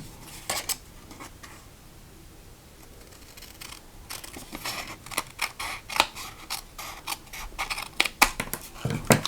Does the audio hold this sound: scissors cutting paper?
yes